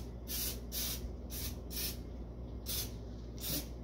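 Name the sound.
cooking oil spray on baking pan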